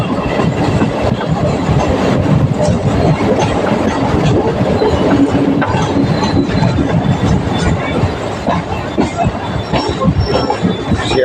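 Train pulling into Sealdah station rumbles close and steady, wheels clattering over rail joints with occasional faint squeals, a continuous loud rolling noise throughout.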